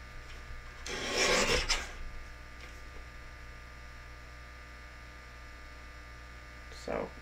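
Paper strips for a card are cut, with one scraping rasp of a blade through paper early on and a second, shorter stroke near the end, set against a quiet background hum.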